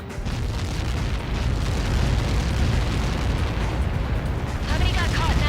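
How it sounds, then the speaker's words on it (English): Massive impact explosion in an aerial combat video game with over a hundred planes in the sky, a sustained loud rumbling roar that fills the clip with continuous heavy low-end blast noise. "How many got caught in that explosion?"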